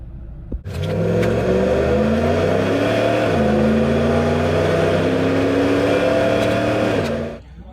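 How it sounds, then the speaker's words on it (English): A Citroen C1 small hatchback fitted with a cheap OBD2 tuning box accelerates hard, its engine note climbing steadily through the gears with one shift around the midpoint, loud and close inside the cabin for about six seconds. "Let's see how hard she accelerates."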